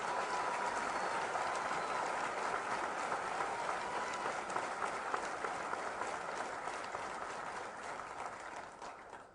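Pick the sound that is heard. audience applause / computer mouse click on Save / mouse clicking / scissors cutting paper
audience applause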